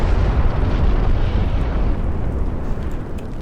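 Heavy ship guns fire in the naval battle game Ultimate Admiral: Dreadnoughts, a loud sustained rumbling blast with deep low-end roar that slowly fades over a few seconds.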